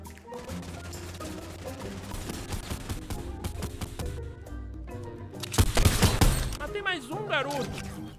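Gunfire in the video game Fortnite crackles as a steady stream of shots over background game sound, then swells into a louder burst near the end, with a voice talking over parts of it.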